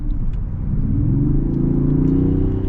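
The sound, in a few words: heavy SUV accelerating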